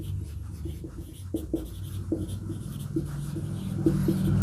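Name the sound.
writing a trigonometry solution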